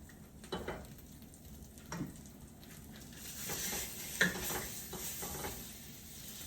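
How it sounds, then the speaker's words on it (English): A fajita quesadilla sizzling on a griddle while two spatulas scrape and lift it for a flip, with soft frying hiss, a few scraping strokes and a sharp clink midway, fairly close and without talk. "let's get ready to give it a flip. I'm going to use the assistance of a second spatula."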